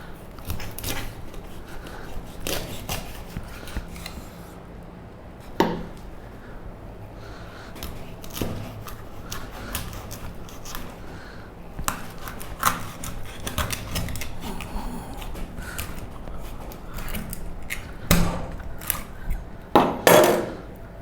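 Kitchen scissors snip through the backbone of a whole raw chicken, giving scattered sharp crunching cuts and clicks over a quiet kitchen, with a louder burst of snapping near the end.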